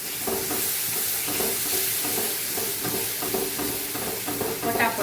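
Okra gravy masala with gram flour and a couple of spoonfuls of yogurt sautéing in a hot pan, a continuous close sizzle broken by rhythmic scraping and stirring strokes, with no voice over it.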